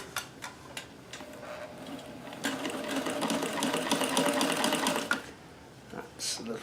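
Davis vertical feed sewing machine with a ruffler attachment runs steadily at close range, a brief start of ticking stitches swelling into a continuous mechanical clatter for a few seconds, then stopping, with light sounds around it.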